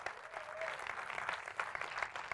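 Spontaneous applause from an audience at a presentation event for an entrepreneurship and crowdfunding platform, a steady dense patter of many hands clapping throughout, moderately loud with no voices over it.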